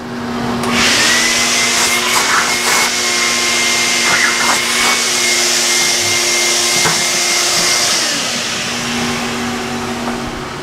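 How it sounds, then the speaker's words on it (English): Loud, steady roar of a vacuum cleaner running close by, with a constant whine and brief rattling bursts as small drilling chips are sucked up. "let me vacuum out the little chips there."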